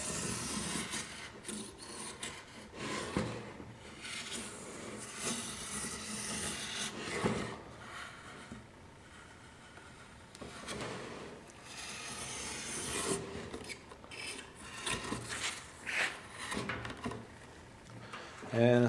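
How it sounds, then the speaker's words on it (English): A knife drawn along the back edge of a still-tacky fiberglass laminate part during wet trimming, giving repeated scraping, rasping strokes at moderate volume, with someone talking over much of it. "Basically, you just use that knife and slide it on the back edge of the part."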